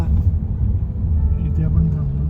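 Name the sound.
car being driven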